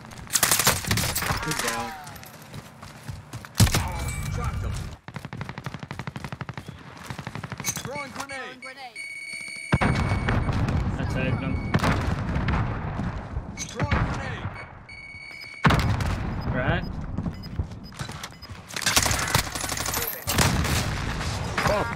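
Gunfire in Call of Duty Cold War Warzone, including XM4 rifle fire: repeated bursts of rapid automatic shots and loud impacts, near and dense, with brief gaps and a player talking over the action.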